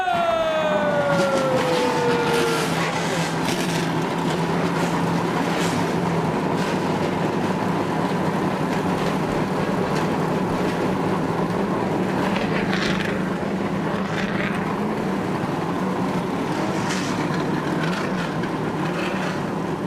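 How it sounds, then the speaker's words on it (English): Race car engines fire up and roar together at the 2001 Budweiser Shootout at Daytona, a loud continuous roar of 18 cars with a rising whine fading early, heard without talk. "Gentlemen, start your engine!"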